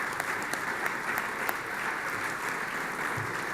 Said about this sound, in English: So immediately the applause comes in